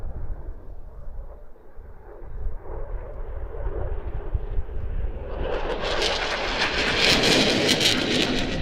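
An F-16 fighter jet flying at an airshow practice in Leszno, its broad engine roar building steadily louder and brighter until it becomes a loud, continuous rush.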